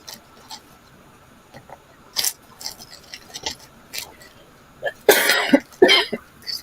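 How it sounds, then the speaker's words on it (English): Coughing from a host during a live jewelry auction stream, several short dry coughs and throat clearing scattered through a quiet room, the loudest bursts clustered near the end. "And that's more of a coffee cough."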